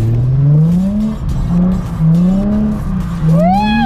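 A car revs and accelerates hard while drifting donuts around a cone at a beginner drift lesson, the engine note rising and falling in repeated surges. Loud, close tire squeal breaks out near the end.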